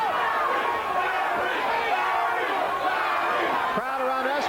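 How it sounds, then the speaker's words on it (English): A boxing crowd at Larry Holmes versus Michael Spinks chants Larry's name in a loud, rhythmic, massed wave of voices, with general crowd chatter and noise blended underneath. "Crowd around us chanting, Larry, Larry"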